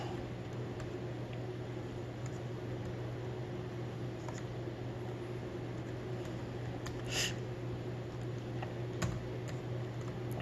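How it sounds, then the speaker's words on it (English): Slow one-handed typing on a Compaq LTE-era laptop keyboard: sparse, faint key clicks over a steady low hum, with a couple of slightly louder taps. "I'm trying to type this one hand."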